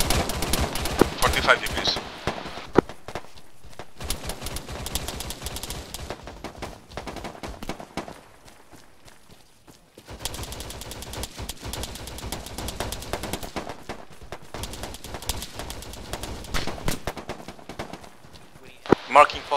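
Light machine-gun fire in a military shooter game, with long, dense, rattling bursts broken by short pauses. Voices talk over the gunfire.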